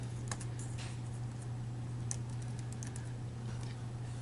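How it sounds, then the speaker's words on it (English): Typing on a computer keyboard while composing a cover letter, heard as a few scattered light key clicks over a steady low electrical hum. "I could type in cover letter,"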